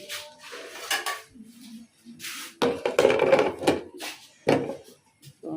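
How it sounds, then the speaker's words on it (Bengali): A cooking pot holding jute leaves being fried is handled and covered with its lid: a series of close, loud metallic clanks and scrapes, separated by short pauses, with one sharp clink near the end. "এবার ঢাকনা দিয়ে আমি ঢেকে দিই।"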